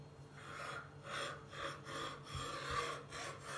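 Knife slicing through a stack of oiled yufka pastry sheets into triangles, a series of soft, close rasping strokes repeating steadily with no talk.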